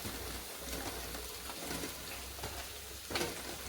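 Onions just added to oil with browned ginger and garlic, frying at lunch prep with a steady broadband sizzle throughout, a brief louder crackle near the end, no talking.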